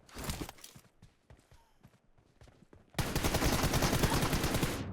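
Gunfire in PUBG Mobile: scattered shots at first, then from about the midpoint a loud, sustained rapid burst of automatic fire that continues to the end.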